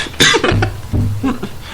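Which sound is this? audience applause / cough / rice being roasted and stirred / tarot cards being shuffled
cough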